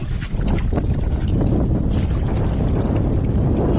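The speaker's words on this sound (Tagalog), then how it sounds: "lakas ng hangin mga idol" Strong wind buffeting the microphone on a fishing boat at sea, a continuous low roaring rumble with gusty fluctuations, loud and close throughout.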